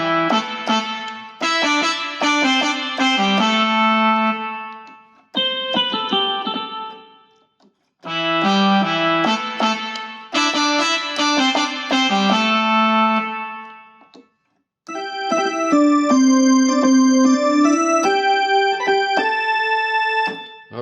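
Yamaha PSR-443 electronic keyboard plays bright sustained chords and melody in phrases separated by short pauses, loud and close, with no voices.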